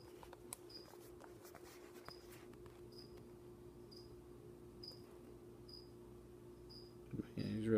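A single cricket chirps in short, evenly spaced pulses over a low steady hum, with a brief rustle and voice at the end.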